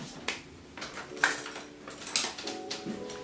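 Seasoned chicken drumsticks tossed in a bowl with white and black pepper, scattered light clinks and knocks of utensil against dish at close range, alone without talk.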